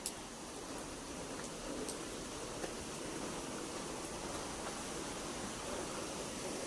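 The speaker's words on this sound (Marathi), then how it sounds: "तुम्हाला दाखवते बघा पाण्याचा आवाज येत असेल" Steady broadband rush of flowing water, like a waterfall or fast stream running into a river near a rural home, continuous and fairly faint with no voices.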